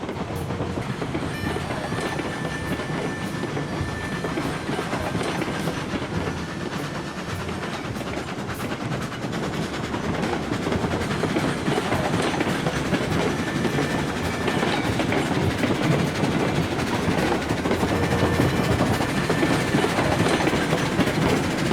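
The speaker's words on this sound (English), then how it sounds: "Get this train moving." Train in the Railroads Online video game rolling along straight, flat track at steady speed, with continuous loud rumble and rhythmic wheel clatter throughout and a faint whistle-like tone now and then.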